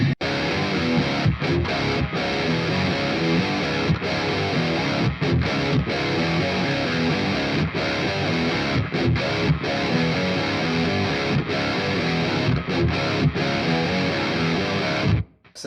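A heavily distorted electric guitar plays the chugging intro riff of a song, loud and continuous with brief rhythmic stops, repeating for about fifteen seconds before ending abruptly.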